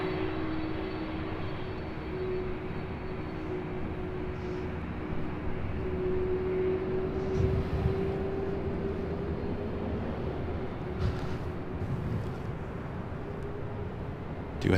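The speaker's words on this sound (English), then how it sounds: "767 heading to Honolulu. Now rolling down. 24 left." A Delta Boeing 767 jet rolls down runway 24 left at LAX for takeoff, its engines giving a steady, heavy roar with a sustained low hum that holds for the whole stretch, with no voices.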